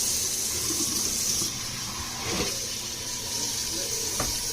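Cold tap water runs steadily into a pot on a stove in a home kitchen, a close, continuous splashing rush with a brief shift in flow partway through.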